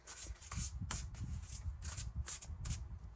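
Oracle cards shuffled by hand in quick, repeated papery riffles and slaps, close and fairly soft, with a low rustle underneath and no one talking.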